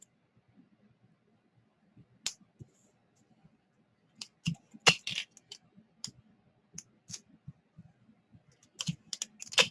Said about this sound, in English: I'm just going to turn it over and take out my tape, and I'm just going to tape down those pieces.